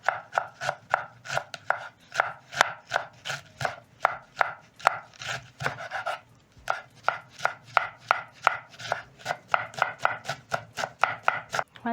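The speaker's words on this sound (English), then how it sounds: "You're going to pick your knife and thinly slice your red cabbage." Red cabbage is sliced thinly with a knife on a board, a quick, steady run of crisp chopping strokes close by, with a brief pause midway.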